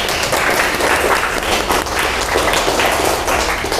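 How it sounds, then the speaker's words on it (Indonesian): Dense, continuous applause from a crowd fills the whole stretch at a steady, fairly loud level, with no talking over it. "Tepuk tangan dong untuk Nasar."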